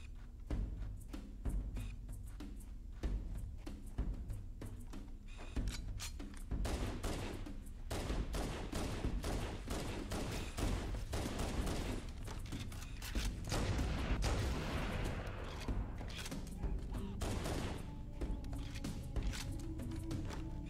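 Dense gunfire from a Halo battle on Legendary difficulty: rapid bursts of automatic fire and individual shots pile together across the whole stretch, loud and close, with occasional heavier booms and no talk.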